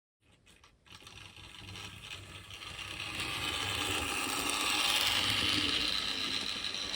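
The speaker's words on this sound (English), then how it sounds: "Next up is a Hornby locomotive, 7178." Vintage Hornby model locomotive 7178 running on a track under a Gaugemaster controller, a whirring motor hum rising steadily in loudness and pitch after a few clicks at the start.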